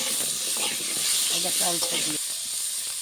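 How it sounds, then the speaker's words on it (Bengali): Potatoes fry in hot oil with a constant hiss and bubbling, while a voice speaks briefly in the middle. "আলুটা ভেজে নেব আগে"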